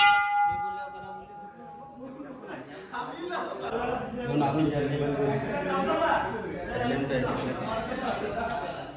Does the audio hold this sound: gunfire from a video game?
no